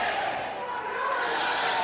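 A wrestling crowd at a CCW Game On show chants loudly in unison, counting along during a suplex, with a dense, roaring mass of voices filling the whole short moment.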